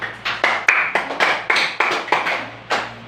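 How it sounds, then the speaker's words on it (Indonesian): A fourth-grade classroom claps for a pupil, with a small group of hands striking together in a regular, brisk rhythm of sharp, close claps over a faint background hum. "Kita beri tepuk tangan untuk Cecilia"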